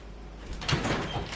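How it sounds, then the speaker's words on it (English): An interior garage door in a home slides or swings once, a short muffled rumble swelling midway and fading out, close by with no talking. "Interior garage door."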